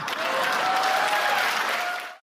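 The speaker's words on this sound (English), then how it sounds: "The remark about elections in Russia was met with a storm of applause in the hall." A storm of applause fills a hall as a crowd claps steadily and loudly for about two seconds without pause, then cuts off abruptly.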